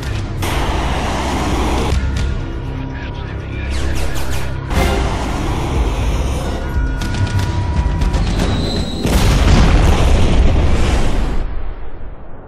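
A missile strike destroys a target in a Eurofighter Typhoon attack sequence, heard as loud, continuous rumbling blasts with several heavier booming bursts and sustained roaring, dense and close throughout.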